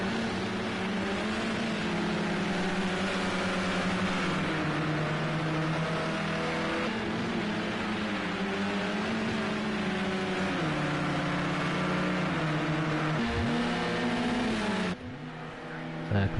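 Race car engines in Project Cars 2, a steady loud droning engine note with shifting pitch as the cars run, cutting off abruptly near the end.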